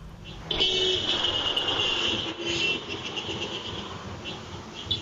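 A car horn honks from a pickup truck speeding along a road, a sustained, fairly loud blare heard amid traffic noise, with some brief breaks.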